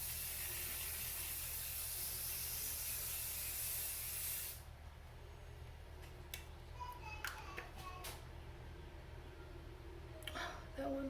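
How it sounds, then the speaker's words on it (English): Original Freeze Volumizing Hold Hairspray sprayed onto a pixie haircut, a loud continuous aerosol hiss for about four seconds that cuts off abruptly, followed by quiet rustling and faint clicks. "we're gonna take the Original Freeze Volumizing Hold Hairspray, and we're just gonna"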